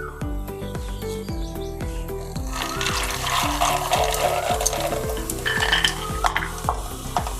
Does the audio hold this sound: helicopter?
no